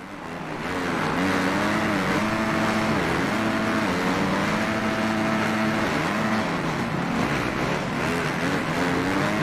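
Supercross motorcycles in Monster Energy Supercross 5 racing with a continuous loud engine drone, the pitch rising and falling in repeated revving waves as the bikes accelerate and shift, with no voices.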